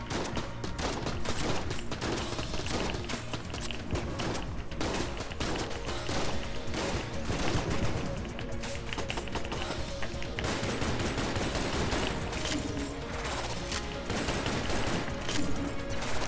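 Rapid gunfire from a weapon in the video game Enter the Gungeon, a dense continuous stream of shots running loud for the whole stretch, with game sounds mixed in.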